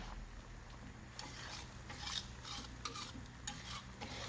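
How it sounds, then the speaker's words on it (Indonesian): Garlic chives tossed and stir-fried in seasoned oil for chicken noodle oil, a soft, close sizzle broken by a series of scraping stirring strokes against the pan, faint and without speech. "Kita tumis kembali agar daun kucainya layu dan tambah wangi."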